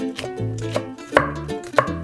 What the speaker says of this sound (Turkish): mümkün mertebe ufak doğramaya çalışıyorum.